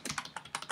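Rapid keystrokes on a computer keyboard, about seven or eight clicks in under a second, close and clear with no voices.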